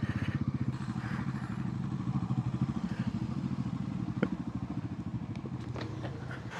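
Motorcycle engine idling nearby on a wet road, with a steady, rapid, throbbing putter running through the whole stretch and faint clicks and clatter on top.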